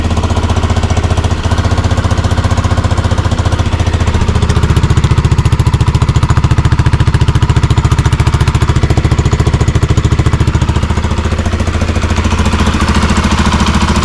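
A relatively new replacement engine in an Alfa Romeo idling without throttle, a loud, close, steady rapid chugging with a dense mechanical clatter that swells slightly in the middle and holds for the whole stretch.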